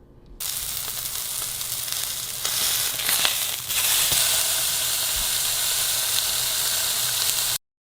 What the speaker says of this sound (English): So I'm just gonna put it on that grill thing to get a good sear, hopefully, on it to give it a little more flavor